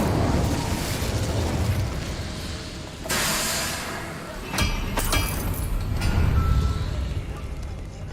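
An Incendio fire spell exploding in Hogwarts Legacy: rushing fiery bursts and crackling pops over a steady roaring bed, with a sudden loud flare partway through and several quick sharp bursts after it.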